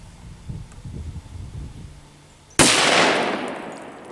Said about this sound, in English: 10mm Glock Model 40 Xtreme Penetrators, concrete.